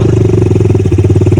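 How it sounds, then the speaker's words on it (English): A 2000 Honda XR100 100cc dirt bike engine running loud and close, a steady rapid low putter with mechanical clatter layered over it. "This is a 2000 XR100. You should say it right there. So, 100 cc's"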